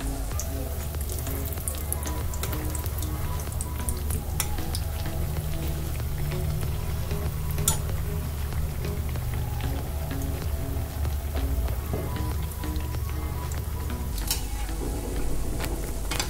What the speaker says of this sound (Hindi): हम इसे दोनों तरफ से फ्राई करेंगे।